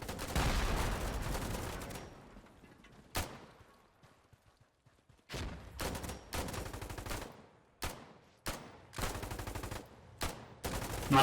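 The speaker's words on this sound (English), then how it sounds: "The night erupted with gunfire and explosions as the relentless assault began" Gunfire and explosions erupt in the Foxhole video game, with a loud opening barrage fading into a near-quiet lull. Sharp, repeated bursts of automatic fire follow, separated by brief silences.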